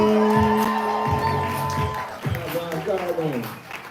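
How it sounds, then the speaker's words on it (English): Lively audience at a live spoken-word poetry show clapping, whooping and cheering for a poet, a dense burst of applause and shouts under an amplified host's voice that fades as the noise settles. "So we're clapping, we're building energy. Y'all give it up for Jim"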